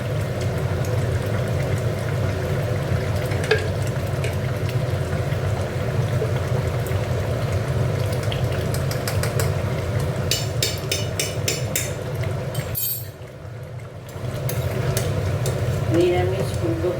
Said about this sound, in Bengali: একটু ঘি দিয়ে দিচ্ছি।